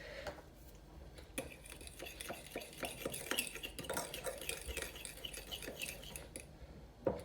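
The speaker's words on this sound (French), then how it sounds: "Je mélange bien comme il faut." A spoon stirs a pink jam mixture in a pot for almond sablés, quiet irregular scraping and clinking against the metal, close up with no talk.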